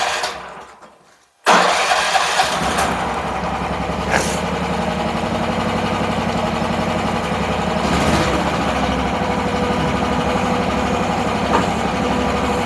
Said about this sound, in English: You pull the choke up, fires up every time.